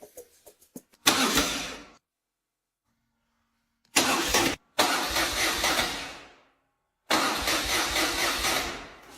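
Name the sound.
motorcycle engine starting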